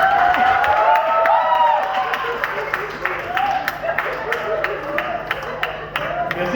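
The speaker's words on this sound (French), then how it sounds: "Applaudissez pour qu'elle puisse pousser." A theatre audience claps and cheers to encourage a performer acting out childbirth on stage. The applause is a dense, steady patter with scattered whistles and crowd voices mixed through it, holding for several seconds.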